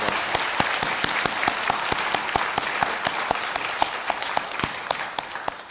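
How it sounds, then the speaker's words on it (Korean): A church congregation claps steadily together, a dense, continuous applause with sharp individual claps standing out, sustained for several seconds without speech. "우리 목양부 식구들을 위해서 박수 한번 해드리도록 하겠습니다"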